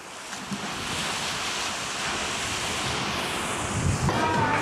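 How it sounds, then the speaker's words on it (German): Sea surf rolling onto a black volcanic sand beach in Sicily, a loud continuous wash of waves mixed with heavy wind buffeting the microphone, rising slightly toward the end. "Hier im Hintergrund seht ihr schon das Meer."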